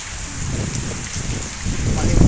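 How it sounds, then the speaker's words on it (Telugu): Heavy rain pours down steadily in a continuous broadband wash that grows slightly louder toward the end, with a faint murmur of voice underneath. "మళ్ళీ వర్షం అయితే ఎక్కువగా స్టార్ట్ అయింది. చూడండి, భారీగా అయితే వస్తుంది."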